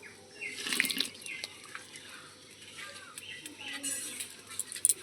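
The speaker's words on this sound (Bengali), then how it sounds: "এবারে কড়াইতে জল দিয়ে দেবো আন্দাজ করে পুরো মাপ মতন জল দিয়ে দেব" Water from a tap runs and splashes into a wok, a fluctuating close gush with small clatters and drips, fairly quiet.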